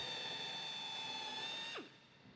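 A high-pitched power drill whines steadily while cutting through rivet heads in the aluminium wing skin of a Seversky P-35A, then spins down and cuts off near the end, close and fairly quiet.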